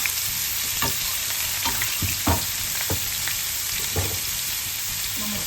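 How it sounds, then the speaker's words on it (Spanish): Chopped onion and bell pepper hiss loudly and steadily in hot olive oil, a dense continuous sizzle broken by occasional scrapes and taps of a spoon against the pan. "Tenemos nuestro aceite caliente, vamos a poner la cebolla, el pimiento."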